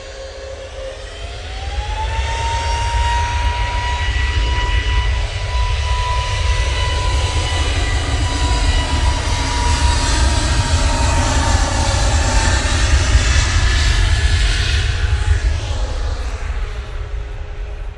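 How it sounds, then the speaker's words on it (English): A KLM jet airliner departs Manchester Airport, its engines roaring loud and close in a sustained, building thrust with rising turbine whine as it accelerates away, with no talk over it. "KLM, last plane going out."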